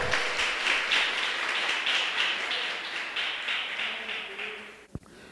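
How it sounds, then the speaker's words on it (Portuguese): A church congregation applauds in sustained, dense clapping that carries at moderate distance for about five seconds, then fades out, ending with a single sharp knock. "Você pode aplaudir o nome do Senhor."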